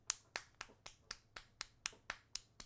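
Sharp hand claps in the GTA RP video game, about ten crisp individual strikes in a steady, evenly spaced rhythm, close and distinct with quiet gaps between.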